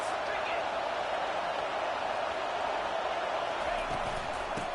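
Crowd at a Penn State vs Illinois college football game: a dense, constant stadium roar filling the whole stretch at steady loudness, with an announcer talking over it.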